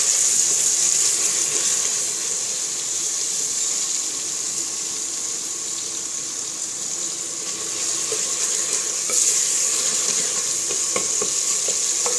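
Onion-and-spice masala for mash ki daal (urad dal) sizzles steadily in a pan, a continuous bright frying hiss with occasional scraping stirs, close up and without talk.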